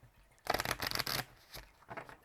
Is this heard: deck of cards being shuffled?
yes